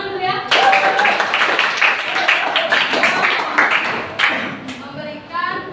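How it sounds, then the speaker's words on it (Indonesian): Students in a classroom clap together, a bright, busy patter of hands that runs for several seconds, with voices talking and calling out over and around the clapping. "Oke, tepuk tangan dulu ya."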